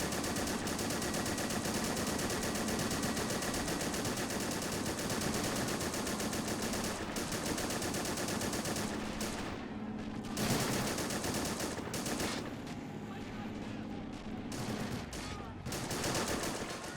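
Dense, sustained machine-gun and rifle fire crackles through a Men of War naval base battle during an amphibious Ranger assault, with overlapping bursts and fusillades continuing loudly throughout, briefly thinning before resuming.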